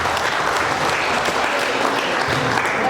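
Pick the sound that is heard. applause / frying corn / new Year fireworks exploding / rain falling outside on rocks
applause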